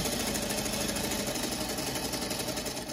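A sewing machine stitches fabric along a marked line, running continuously at a fast, even mechanical whir close up with no pause.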